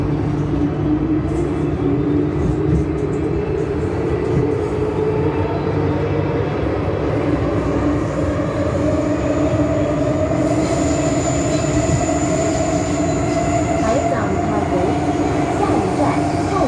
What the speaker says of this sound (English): Okay, it's a 2CM train again.